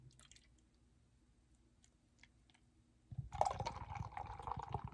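Beer from a can pours into a glass, beginning suddenly partway through with a near, steady splashing gush and fizz that runs to the end after a quiet stretch of faint drips and small clinks.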